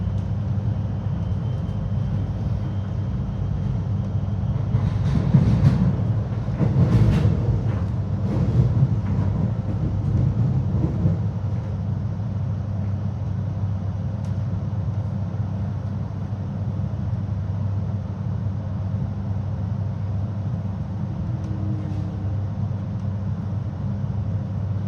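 Melbourne Belgrave line train pulling into Upwey station, a loud steady low rumble with a brief swell of clattering and squealing early on, then a continuous hum as it settles.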